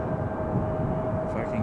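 A Breeze Airways Airbus A220-300 airliner at Raleigh-Durham airport, a steady low engine drone with a faint tonal whine, heard briefly at moderate distance under a talking voice.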